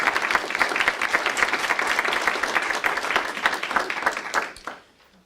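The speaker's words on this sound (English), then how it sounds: "Can we give Carol a round of applause?" An audience at a school district grants presentation gives a round of applause, dense, even clapping that tapers off and stops near the end.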